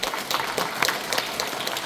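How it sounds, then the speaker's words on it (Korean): A short burst of audience applause at a policy forum on emergency medical care, dense overlapping claps at an even level throughout. "박수 한번 해주십시오."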